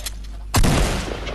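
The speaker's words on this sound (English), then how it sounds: "I think I hear gunshots" Fortnite gunfire: a faint early shot, then a loud, sudden blast with a booming low rumble that fades over about a second, with no voices.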